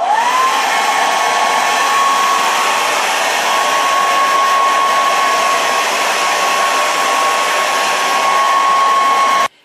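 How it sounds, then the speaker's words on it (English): A hair dryer runs steadily at full blast while blow drying hair, a loud continuous whine and rush of air that holds at one pitch the whole time and then cuts off abruptly at the end. "So I'm just gonna start off blow drying my hair just like randomly."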